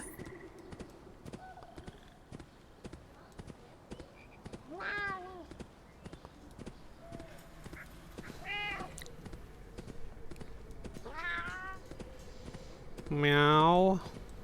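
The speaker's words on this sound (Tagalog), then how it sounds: "Ang ingay mong pusa ka." A cartoonish cat meows repeatedly in the game Ni No Kuni, four distinct drawn-out cries spaced several seconds apart, the last one loudest, over a backdrop of clip-clop footsteps and light game ambience.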